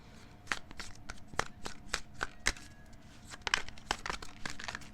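Tarot cards are shuffled up close in a quiet room, giving a quick series of sharp papery riffles and slaps in an uneven rhythm, soft overall and free of talking.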